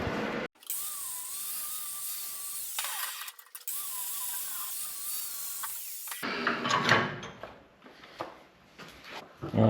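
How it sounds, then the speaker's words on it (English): Angle grinder smoothing fresh welds on an engine mount during an engine swap, a loud steady whine with wavering tone for several seconds, cutting off briefly, then giving way to scraping, clattering metal handling noise. "I'll just chuck a couple little welds on them ends and grind it smooth"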